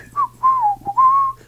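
A man whistles Mazatec speech, a few tonal whistled phrases with gliding pitch, loud and close, separated by short pauses over a low steady hum.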